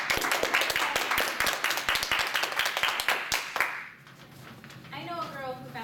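A crowd claps steadily for several seconds, then the applause fades and a voice starts speaking.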